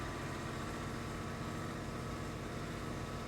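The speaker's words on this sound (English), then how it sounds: "You can hear a truck outside my house," A low, steady truck engine rumble idles continuously throughout outside a house, a heavy vehicle running nearby with no voices over it.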